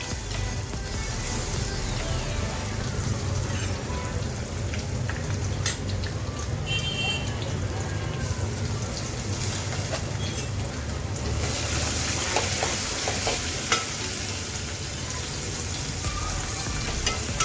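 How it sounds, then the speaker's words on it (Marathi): A medium-size whole onion sautés in a pan with bay leaf, a steady, close sizzle and hiss running unbroken throughout, with occasional faint clinks of stirring. "कांदा चांगला परतून घ्यायचा"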